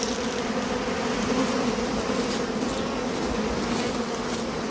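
Italian honey bees hum in a dense, continuous buzz at an open hive in an apiary near Ankara, loud and close with no talking.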